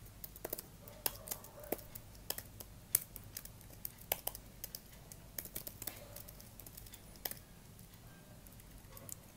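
Code being typed on a computer keyboard for a Flutter payment app, steady close clicking keystrokes in quick irregular bursts with brief pauses, fairly quiet, no speech.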